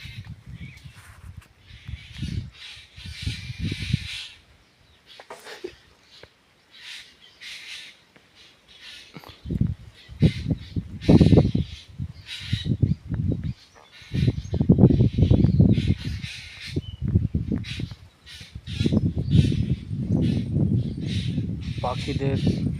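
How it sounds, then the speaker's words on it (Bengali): Birds call outdoors in a natural setting, harsh crow-like caws and squawks repeating in irregular bursts at moderate distance, with low rumbling background noise and what may be faint voices at times. "কিচিরমিচির, খুব সুন্দর আওয়াজ"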